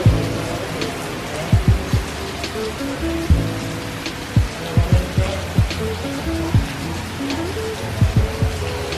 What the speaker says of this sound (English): it's currently raining right now